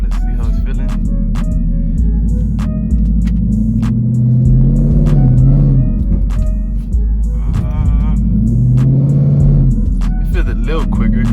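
A Ford Mustang GT fitted with a Roush intake accelerates on the road, its deep engine drone swelling as revs climb in two surges, with someone talking over the steady rumble.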